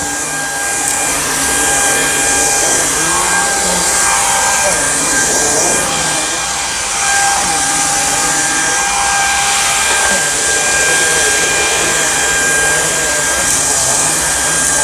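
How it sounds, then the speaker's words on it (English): A Samsung Jet VS70 cordless vacuum cleaning stairs runs with a loud, continuous high whine and airy roar, with faint shifts and scraping as it moves across the steps, steady throughout. "Big reasons I love cordless vacuums: stair cleaning, easy cleaning."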